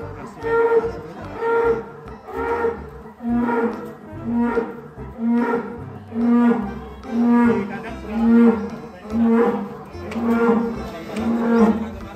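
A premium-grade cow with panda-like markings moos over and over in a steady rhythm of long, loud calls, close and clear, with no talking.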